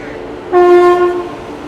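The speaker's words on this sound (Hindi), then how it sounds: "ये आ गई अपनी डिब्रूगढ़ राजधानी बिल्कुल राइट टाइम पे समस्तीपुर जंक्शन के प्लेटफॉर्म नंबर 1 पे।" Dibrugarh Rajdhani Express pulling into platform 1 at Samastipur Junction, marked by a loud, sustained train horn of about three-quarters of a second rising out of steady station background noise.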